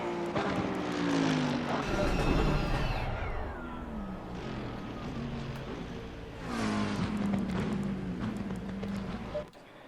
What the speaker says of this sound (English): we're just waiting until the final cars come around the track